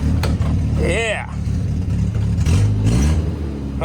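A 1964 Jeep CJ5 with a previously stuck engine idles and revs close by, its steady mid-range rumble rising and falling, while several people talk over it.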